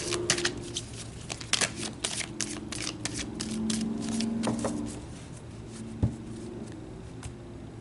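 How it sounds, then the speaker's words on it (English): Tarot cards are shuffled and drawn with close, crisp riffling and soft flicks and taps, coming in quick irregular bursts. "Let's pull some more cards."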